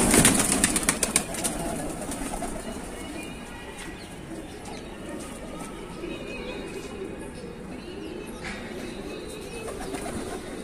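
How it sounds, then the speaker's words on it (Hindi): A large flock of Shahjahanpuri pigeons in a loft makes a busy bed of cooing and wing flapping. A burst of sharp flapping comes at the start, then a steady murmur of birds continues. "यहाँ पर कबूतर की क्वांटिटी जो है वो बहुत ही ज़्यादा है"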